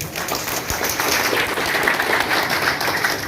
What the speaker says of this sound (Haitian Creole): Si nous sommes d'accord, applaudissez nous.